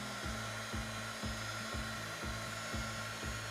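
A hot air blower heats wax on a leather shoe during a shine, a steady loud whirring hum with a regular pulsing rhythm about twice per second.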